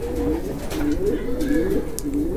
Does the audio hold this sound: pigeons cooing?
yes